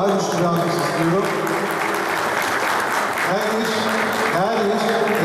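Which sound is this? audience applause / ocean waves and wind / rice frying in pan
audience applause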